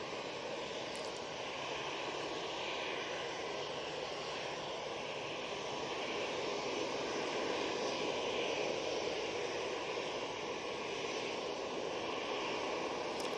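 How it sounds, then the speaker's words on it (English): A jet airliner departing Manchester Airport, its engines giving a steady, sustained roar that swells slightly as it climbs, heard fairly far off, with no talking. "Absolutely stunning departure"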